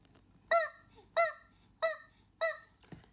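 Four evenly spaced, honking chicken clucks come from a video game, each one short and bright, sounding alone against near silence.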